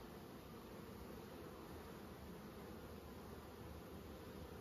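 Honey bees in a full hive super, a steady dense buzz that holds level and continuous throughout, close and fairly faint, with a soft rustling texture underneath and no talking.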